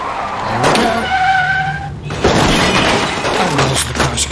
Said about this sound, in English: And there's the crash car straight away.